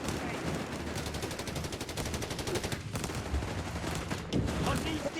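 Machine gun fire in the video game Company of Heroes 3 rattles out as a rapid, evenly spaced stream of shots, running continuously at a steady level with a few heavier thumps mixed in.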